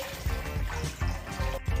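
Water being poured into a pot for vegan ramen, a short liquid burble and splash with an uneven gurgling rhythm, close and moderately loud under faint background music.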